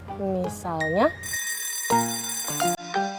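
A school entry bell in an Indonesian classroom setting rings with a bright, sustained electronic tone of about a second and a half, mixed with voices speaking before and after it.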